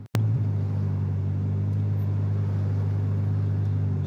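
A Toyota Corolla's engine idles in stop-start traffic at a border crossing, a steady low droning rumble heard from inside the car after a brief sharp knock at the start.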